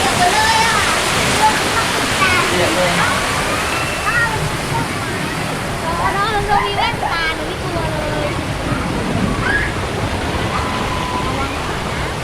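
Loud, continuous splashing of a water park waterfall pouring down, a steady rushing roar with sloshing water and excited voices calling out over it.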